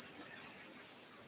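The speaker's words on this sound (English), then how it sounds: "the blackbird is singing happily away in our lilac tree just outside" Blackbird singing in a lilac tree just outside, short bright high chirps and whistled phrases, three or four quick notes, moderately distant and fairly faint, no voices.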